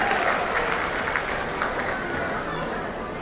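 A crowd at a celebration function bursts into sustained applause, steady and fairly loud, with indistinct voices murmuring underneath.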